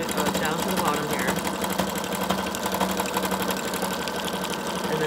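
A sewing machine back stitches along a paper bag envelope pouch, running as a steady rapid mechanical whir and needle chatter throughout, loud and close, while a person talks over it.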